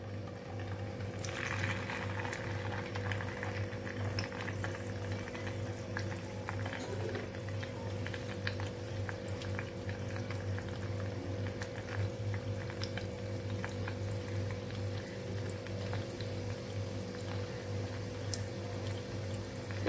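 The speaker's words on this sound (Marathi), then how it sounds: "आता आपण मेदू वडे फ्राय करून घेऊ।" Rice-flour medu vada fry in hot oil in a kadai, giving a steady, even bubbling sizzle that holds at a moderate level throughout, with no talking.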